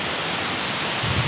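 Steady rain pours at night in Taman Megawaty, Binjai, a dense even hiss close around with no voices.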